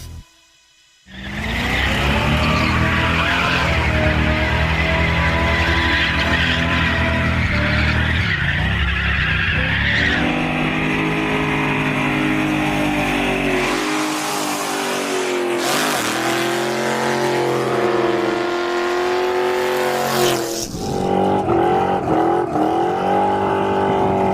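A 1967 Pontiac Firebird or a rental Mustang does burnouts in Lompoc, with a loud sustained engine roar and screeching tire squeal running without a break, the revs rising and falling, and no speech.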